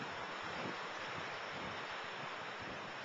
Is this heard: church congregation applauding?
no